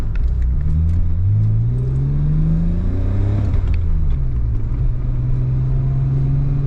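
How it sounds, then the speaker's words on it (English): A Nissan Skyline with an RB25DE Neo engine drives along, its loud in-cabin engine drone rising and falling through gear changes with a steady rumble, no talking. "Having an awesome time driving the Skyline again"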